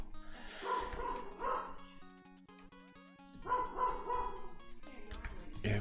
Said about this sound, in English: Hey, little doggy, shut up.